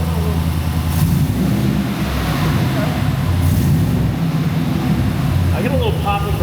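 A 2020 GMC Sierra truck engine runs loud and close, a steady rumbling exhaust drone with slight rises in revs, its note holding throughout and briefly crackling near the end.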